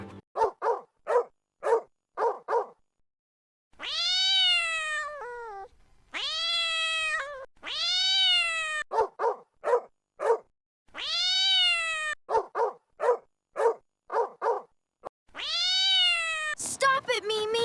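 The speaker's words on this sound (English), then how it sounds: "Look at the cat!" A pet cat meows repeatedly in clear, drawn-out tonal calls alternating with short sharp yips that sound like a dog, both close and loud with silent gaps between them.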